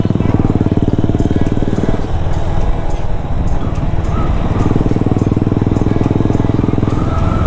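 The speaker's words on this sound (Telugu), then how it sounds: "మీ బండి అదోలా సౌండ్ వస్తుందిగా" A motorcycle engine runs with a steady, loud, buzzing rhythm on a weekend ride with friends, close and continuous throughout.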